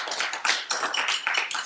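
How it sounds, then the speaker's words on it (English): Middle school students in a percussion class give a classmate a short round of applause. The clapping is brisk and dense, close and fairly loud, and lasts under two seconds. "Let's give him a round of applause."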